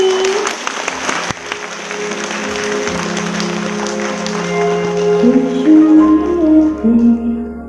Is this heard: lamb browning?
no